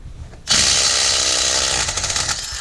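A Milwaukee power impact tool removes lug nuts from a wrecked rollover vehicle being rebuilt. After a quiet lead-in it starts abruptly into a loud, close, continuous whirring rattle that hammers on steadily.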